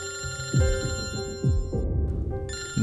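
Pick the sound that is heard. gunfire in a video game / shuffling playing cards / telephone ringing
telephone ringing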